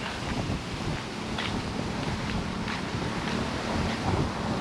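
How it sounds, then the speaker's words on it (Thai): Morning wind sweeping across Bang Saen beach in Chonburi, a steady broadband rush with mild gusts that holds for the whole stretch, close to the microphone and with no talk over it. "ลมไม่ค่อยแรง"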